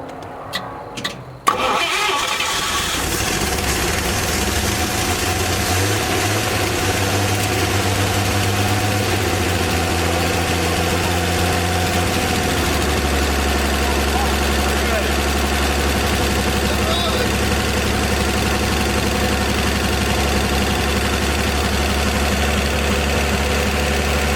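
A 1954 Chevy 210 two-door coupe's engine cranks with a few short bursts, then catches and runs at a loud, rough idle that shifts in pitch, with voices underneath.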